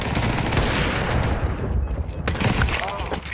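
Rapid bursts of gunfire during a competitive Counter-Strike 2 match, shots fired through a smoke grenade, loud and dense, with a caster talking over them.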